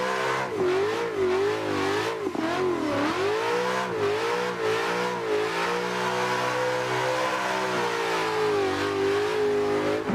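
Simulated car engine in the racing game Assetto Corsa, revving hard while drifting on a backwoods track, a loud continuous whine that swoops up and down with gear shifts and throttle changes, then settles into a steadier high drone.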